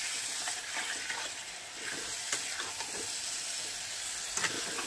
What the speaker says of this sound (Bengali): দিয়ে একটু নাড়ে চাড়িয়ে নেবো মাছটা